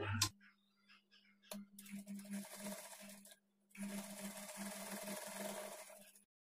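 Close sewing machine stitching a blouse shoulder joint at a half-inch margin: a sharp tap, then two bursts of fast buzzing stitching separated by a brief pause, with a steady low hum beneath.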